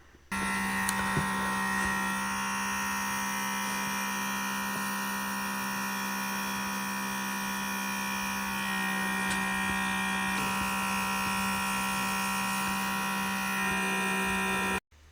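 Airbrush test-spraying pink gel nail polish, a steady continuous motor hum and hiss with no talking, holding evenly for about fifteen seconds.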